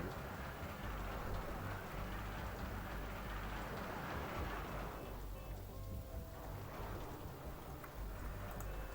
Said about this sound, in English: Oh, it's starting to rain again?